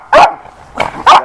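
Dogs bark loudly and close up, three sharp barks with the second a bit softer, spread over about a second with short gaps between them.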